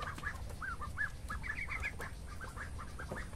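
Month-old native ducks and young Muscovy ducks call together in repeated short, chirpy peeps, several birds close by over a steady low background hum.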